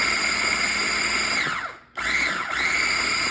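A blender pulses garlic salad dressing in loud, steady whirring bursts, the motor winding down briefly to a stop before spinning back up at full speed.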